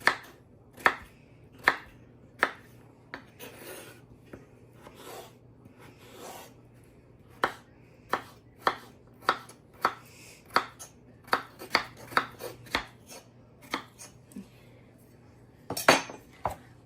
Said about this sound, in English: I'm going to start dicing them up in tiny little pieces.